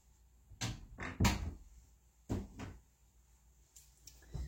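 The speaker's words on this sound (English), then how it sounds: "I'm going to shut the door because that cat's making some noise." A door is shut indoors: several soft, hollow thuds and clacks come one after another against a quiet room, followed by a faint later knock.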